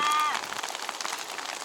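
Hailstones patter down on the ground during a hike in England, a dense, steady scatter of small impacts. Excited voices talk over it from the start.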